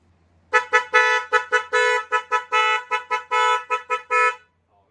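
An electric bike horn in its normal mode sounds a series of about a dozen loud, close tonal honks in quick succession, some short and some held longer, with no other sound around them.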